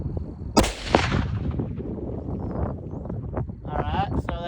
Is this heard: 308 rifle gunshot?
yes